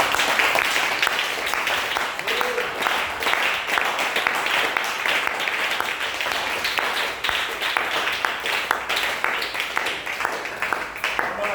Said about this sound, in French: Est-ce qu'on peut donner des mains d'acclamation au Seigneur?